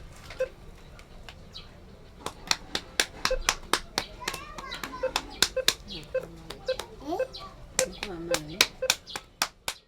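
Children play a patting, clapping hand game, with sharp claps and pats coming in quick irregular runs under frequent talking and high voices.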